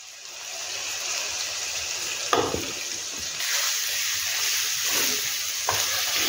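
Chicken gizzard fries with garlic and ginger in a pan, giving a steady, close sizzle broken by a few sharp knocks and a louder burst of hissing as food is stirred in.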